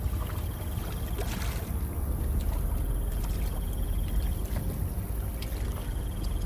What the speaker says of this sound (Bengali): পলাশ নৌকার দাঁড় টানতে শুরু করে দেয়